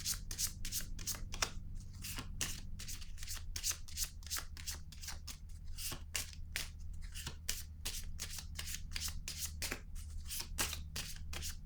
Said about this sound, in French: Je vais déposer une carte encore.